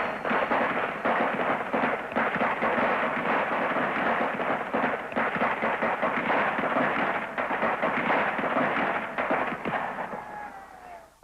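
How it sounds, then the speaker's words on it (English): Sustained volley of live rifle fire during the Kent State shooting, a dense, rolling crackle of many overlapping rounds lasting about ten seconds before tapering off, distant and reverberant, with no speech. "In just over 13 seconds, an estimated 60 rounds of live ammunition are discharged."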